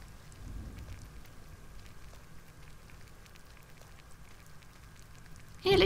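Light drizzle falls in a video game during a thunderstorm, a soft, steady patter of scattered droplets with a faint low rumble early on, ending in a sudden louder burst.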